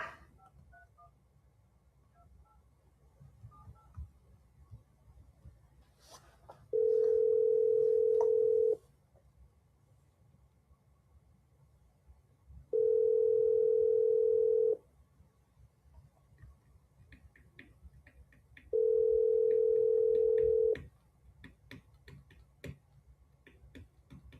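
A telephone plays three steady dial-tone bursts of about two seconds each, evenly spaced and separated by quiet stretches with faint clicks and background hiss, when an agent places a call.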